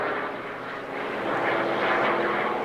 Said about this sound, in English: Just the sound of the aircraft.